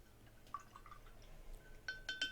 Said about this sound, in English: rinse your brush